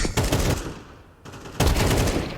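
Automatic rifle bursts in the competitive shooter Counter-Strike 2 during a pro league match, two loud rapid volleys split by a short pause, under faint caster commentary.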